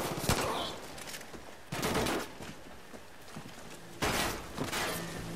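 Bursts of automatic machine gun fire in the video game Far Cry New Dawn, three rapid volleys with gaps between, moderately loud with scattered clatter and faint background noise.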